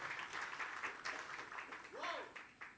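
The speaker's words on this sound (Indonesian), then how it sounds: "Kasih tepuk tangan meriah buat Yesus" Applause from a church congregation during a sermon, a steady patter of clapping rising and falling, with a brief tonal swoop partway through.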